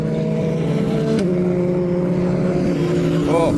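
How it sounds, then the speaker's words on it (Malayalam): A Porsche 911 driving past at a Porsche Experience Center in Germany, a moderate engine drone with shifting tones that dips and settles as the car moves by, without speech. "ആ 911 പോകുന്നത്"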